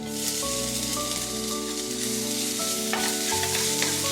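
Onions sauté in ghee in a pan, with a continuous close sizzle and frying crackle and soft stirring throughout.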